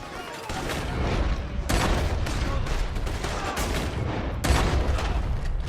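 Gunfire in Red Dead Redemption 2 during a shootout, a dense roar of overlapping shots with heavier blasts standing out, loud and continuous throughout.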